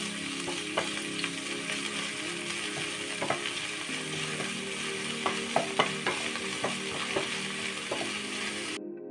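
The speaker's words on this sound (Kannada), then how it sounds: "ಈರುಳ್ಳಿ ಬೆಳ್ಳುಳ್ಳಿ ಚೆನ್ನಾಗಿ ಫ್ರೈ ಆಗ್ತಾ ಬರ್ತಿದೆ" Chopped onion and garlic fry in a pan for a pomfret masala, a close, steady sizzle broken by repeated clinks and scrapes of a spatula stirring the mixture.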